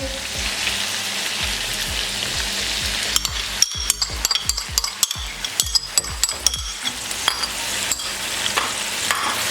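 Yogurt being stirred into frying chicken korma in a pan: steady sizzle throughout, with a burst of sharp scraping and clinking stirring strokes in the second half, close and fairly loud, no talking.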